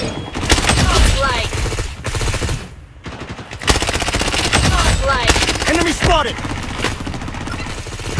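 Rapid automatic gunfire from a Blood Strike shooter game, loud and near, bursts repeating almost continuously with a brief lull around three seconds, layered with game effects.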